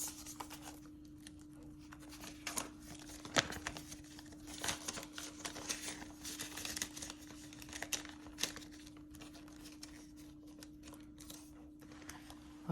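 Paper dollar banknotes are handled and shuffled at close range, producing soft crinkling, rustling and occasional crisp snaps over a faint steady hum.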